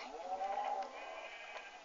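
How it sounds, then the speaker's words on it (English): A sheep in a Minecraft-style video game gives a short, clear bleat, mid-loud and close, with no talk over it. "I'm gonna slaughter this sheep."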